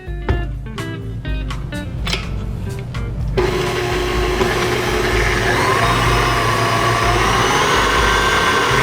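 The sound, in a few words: KitchenAid stand mixer whipping cream at speed 6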